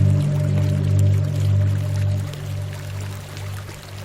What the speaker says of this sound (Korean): 영역 순찰을 위해 개울을 건너는 것도 마다하지 않습니다.